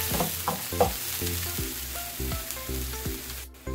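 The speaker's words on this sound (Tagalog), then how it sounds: "ilagay na natin ang ating onion" Chopped onion going into a hot frying pan for a Filipino ground pork dish, giving a steady close sizzle with repeated scraping stir strokes and no talk.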